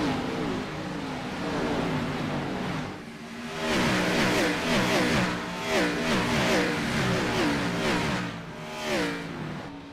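Several race car engines in iRacing at Bristol roar and rev together, pitches sliding up and down as they accelerate, a loud, continuous racing drone with no talk.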